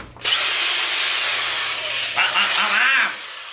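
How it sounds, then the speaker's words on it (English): A handheld power drill bores into a carbon fiber front splitter on a Honda S2000, a loud steady whine lasting about three seconds, then dipping and wavering as the bit bites before easing off, close up with no talk. "Drilling in the carbon fiber."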